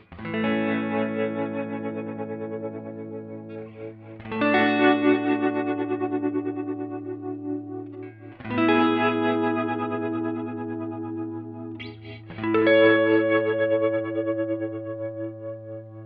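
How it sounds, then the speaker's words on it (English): Processed electric guitar chords, four sustained strums in a row, each ringing out with a wavering, pulsing shimmer from a tremolo effect with MIDI-controlled changing speed. No voices. "I can control the tremolo speed with this"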